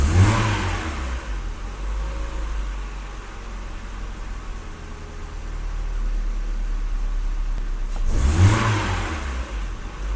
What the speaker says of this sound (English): Let's see what the idle's doing. Idle right now is 900 RPM.